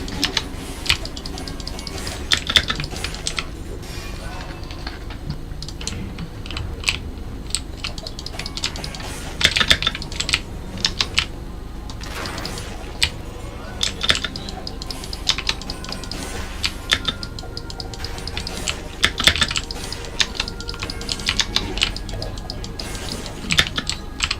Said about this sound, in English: I don't know how to fix this keyboard noise.